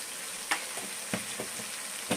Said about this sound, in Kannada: ಇವಾಗ ನಾನಿಲ್ಲಿ ಒಂದು ಸ್ವಲ್ಪ ಶುಂಠಿ ಬೆಳ್ಳುಳ್ಳಿ ಪೇಸ್ಟ್ ಹಾಕ್ತಾ ಇದ್ದೀನಿ